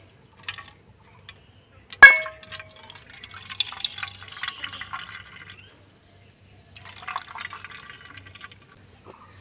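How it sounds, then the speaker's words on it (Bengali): Pomegranate juice strained through a kitchen strainer, with a sharp clink of the tool at the start, then intermittent trickling, dripping and scraping, quiet and close with no speech. "এবার আমি বেদানাগুলোকে ছেঁকে নেব ছেঁকুনি দিয়ে।"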